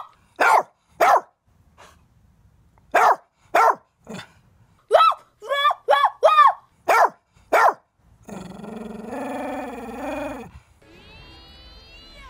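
A dog barks in sharp, loud bursts, a rapid cluster of barks mid-way, followed by a longer growling, whining sound and a tonal phone-like tone at the end.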